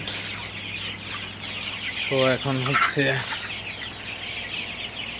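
Forty-one-day-old Sonali super hybrid chickens cluck on a poultry farm in the evening. A quick burst of several close clucks sits in the middle, over a low steady background hum, and someone speaks briefly.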